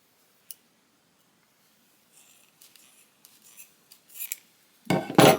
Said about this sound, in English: we're gonna take our scissors and cut